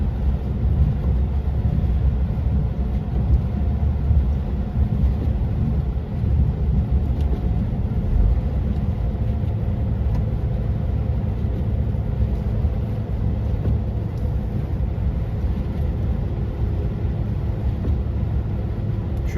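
Car travelling a snowy winter road in Turkey, heard as a steady, loud broadband road and engine rumble throughout with no distinct pass-by peak and no speech.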